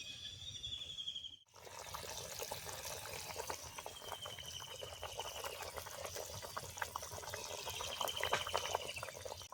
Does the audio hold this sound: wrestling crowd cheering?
no